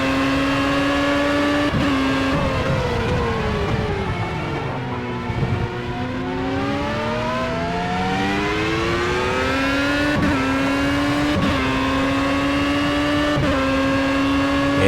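Formula A open-wheel race car in the Project CARS racing game, engine screaming loudly as it revs up and down through gear changes, with sharp upshift breaks and steady high-pitched drone throughout, no voices.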